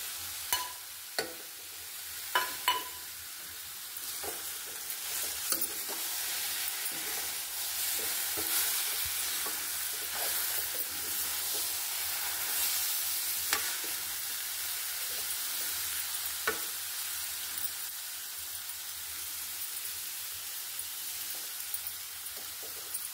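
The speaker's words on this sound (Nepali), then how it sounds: "यसलाई सानो हातमा चलाइ पकाउनु पर्छ।" Carrot halwa cooks in a pan, a soft, even sizzle with repeated scrapes and light knocks as it is stirred, fairly quiet and close with no speech.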